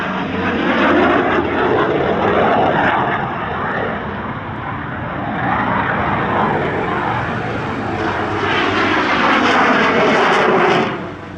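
The Yak 110 aerobatic aircraft roars past at the Shellharbour airshow in Australia, its loud, sustained engine and propeller noise rising and falling slightly as it flies, continuous throughout.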